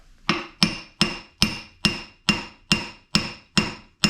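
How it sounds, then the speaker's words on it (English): Nine sharp hammer blows strike a pressed-on metal part of a Volkswagen Super Beetle idler arm at an even, steady pace, each ringing briefly before the next; loud and close with no talking. "Wonder if I could just hammer this through."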